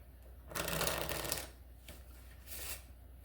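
Playing cards being shuffled by hand during a card trick, a close riffling burst followed by two shorter, quieter shuffling flutters.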